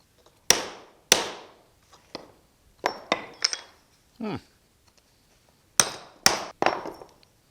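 A hammer strikes a hollow rivet eyelet repeatedly, sharp metallic clangs ringing out in uneven clusters of two or three close blows with pauses between, and a brief voice sound in the middle.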